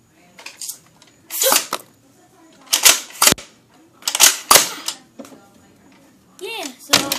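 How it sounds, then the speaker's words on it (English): A new Nerf toy gun fires several sharp, close pops with mechanical clacks and rattles, in irregular bursts across several seconds, loud and mostly alone, with brief voice sounds in between. "of my brother's new Nerf gun."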